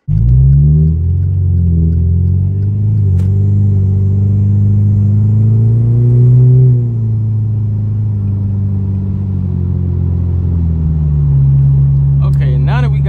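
A car drives on a road from inside the cabin, its engine a loud, steady low rumble that rises and falls slightly with the throttle, a few light knocks near the end.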